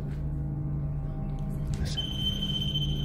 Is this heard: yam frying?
no